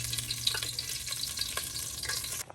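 Duck pieces fry in hot oil, giving a steady, close crackling sizzle with small pops throughout, ending abruptly.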